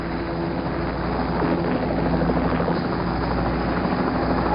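Steady, loud helicopter rotor and engine roar from a recovery helicopter hovering over the ocean as it hoists the last Apollo 11 astronaut aboard near the carrier Hornet, continuous throughout with no talk.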